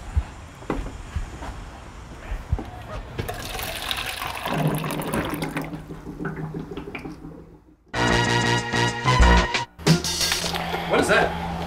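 Water pouring and gushing into an electric water boiler, a filling sound that stops partway and then resumes louder, with people talking over it.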